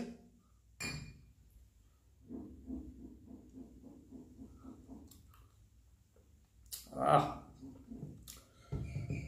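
Glasses clink in a whisky toast, with one sharp, bright chink standing out amid quieter handling noises and a voice talking.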